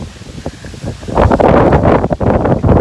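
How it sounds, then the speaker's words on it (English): Gusty wind buffets the microphone, starting moderately and growing into a loud, continuous roar with rustling. "Oh my gosh, it's getting so windy."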